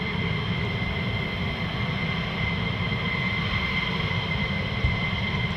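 F-15E Strike Eagle jets of the 492nd Fighter Squadron fly over an RAF air base, a steady, unbroken engine roar with a droning hum, fairly distant and even in level.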